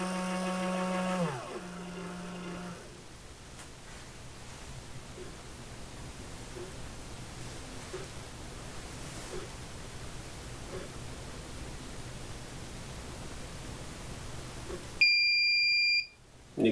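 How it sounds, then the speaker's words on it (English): A ChargeMaster powder dispenser runs with a steady faint whirring hum while trickling powder, then gives a short, loud, high electronic beep near the end as it finishes. "And you can see it'll beep whenever it's done."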